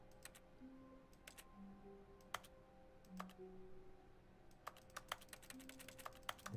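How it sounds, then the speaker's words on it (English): Sparse, faint keyboard clicks sound from a computer in the game The Stanley Parable, with irregular single taps and short bursts of typing over a quiet background with soft electronic tones. "I'm typing."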